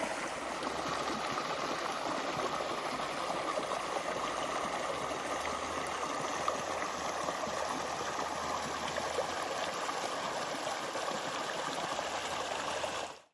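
The Kern River runs along its riverbed near a campsite in Inyo National Forest, a steady, full rushing of water that holds even and unbroken throughout before cutting off at the end.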